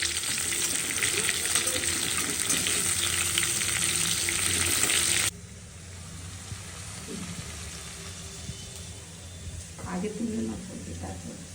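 Fish sizzling in a pan in a home kitchen in Kolkata, a loud, steady frying hiss that cuts off abruptly partway through, leaving quieter room tone with faint clatter and a brief voice near the end.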